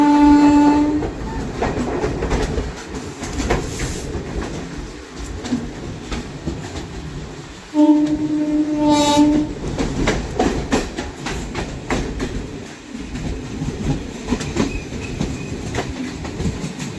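An Indian passenger train from Bandikui to Bareilly runs alongside the Awadh Express, heard as a loud, steady rumble with clattering wheels, and its horn blares in two sustained blasts, one at the start and one midway.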